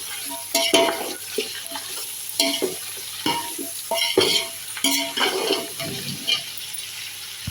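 Salted tomatoes being stirred and sautéed in a large pot for tomato rice for twenty people, a bright steady sizzle broken by repeated scraping and knocking of a ladle against the pot.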